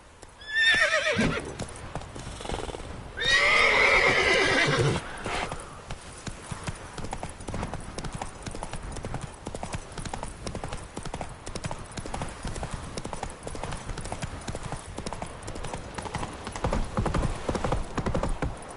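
Roach, a horse in The Witcher 3, gives two loud, close neighs early on, then hooves clip-clop in a steady, even rhythm for the rest of the stretch, with faint game ambience underneath.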